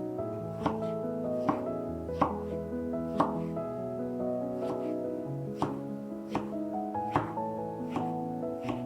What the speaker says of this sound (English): Cut the top off a large portion of fresh strawberries and cut each strawberry into thin slices.